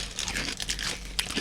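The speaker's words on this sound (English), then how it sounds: "Not as salt and vinegary, but definitely as crunchy." Crunching of dried, square rolled maize crisp snacks, a short burst of dry crackly bites and crinkles close to the mouth, with no talking.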